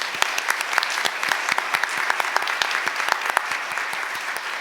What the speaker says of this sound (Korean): 우리 박수로 격려해 주시고 축하해 주시기 바랍니다.